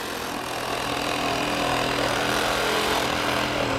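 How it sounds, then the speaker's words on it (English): A Sawzall reciprocating saw cuts through a planter pot with a harsh, continuous buzzing roar, close and loud and unbroken throughout, with no talking. "the Sawzall is actually making quick work of that pot"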